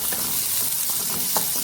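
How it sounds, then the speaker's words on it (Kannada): Chopped onions frying in a pan for a garlic coriander rasam, a brief continuous close sizzle with faint stirring. "ಈಗ ಚಾಪ್ ಮಾಡಿದಂತಹ ನೀರುಳ್ಳಿ ಹಾಕ್ಕೊಳ್ತಿದ್ದೇನೆ"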